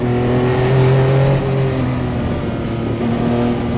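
A Porsche 962 Le Mans race car engine accelerating hard, a loud steady engine note with rising harmonics and gear changes, recorded close and continuous with no talk.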